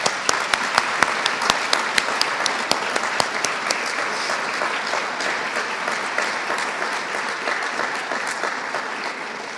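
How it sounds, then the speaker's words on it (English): An audience at an academic lecture applauds steadily for about ten seconds, with a few sharp, close claps standing out at the start over the dense wash of hands clapping throughout the hall. "I'd like to give them a round of applause."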